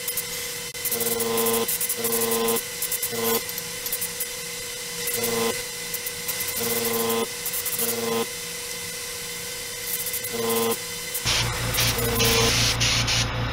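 Spray painting a scale model shuttle: a steady, continuous airbrush-like hiss with repeating pulsed bursts on top and a clattering change near the end, no talking.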